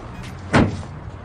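A car door, the beloved car of a hyper, carefree woman, slammed hard in a single sharp thud, loud and close against a low background hum.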